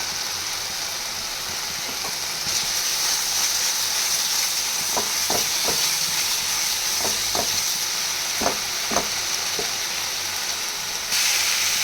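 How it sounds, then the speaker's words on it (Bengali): Spices sautéed with chopped tomato in a pan: a loud, continuous frying hiss that swells partway through, with a few soft knocks from a stirring utensil and no talking. "যতক্ষণ না কাঁচা গন্ধটা যায় ততক্ষণ কষাতে থাকবো দিয়ে দেবো সামান্য টমেটো কুচি"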